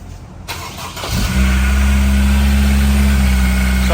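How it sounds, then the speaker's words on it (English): A Honda S2000 engine cranks and catches about a second in, then settles into a steady, loud, close running drone with a strong low hum while the clutch is being broken in; nobody talks over it. "So if you want to start it and do the preliminary clutch break-in"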